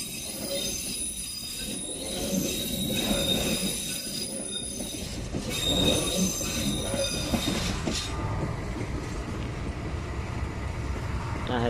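An Argo passenger train departs from a station, a steady broadband rumble of railcars rolling past with faint wheel squeal and high tonal whine, sustained and fairly close with no talk.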